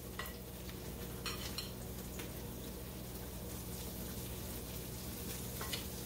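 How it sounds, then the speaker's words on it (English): Flour frying in oil in a pan for cube steak gravy, a steady low sizzle with occasional scraping stir strokes, close and quiet. "Okay, so now I'm gonna turn the fire up. Now I'm gonna add some flour."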